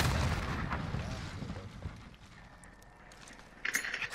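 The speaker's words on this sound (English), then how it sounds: "Frag out." A frag grenade goes off in Call of Duty, a loud booming blast with rolling low rumble that decays, followed by sharper crackling bursts of in-game gunfire near the end.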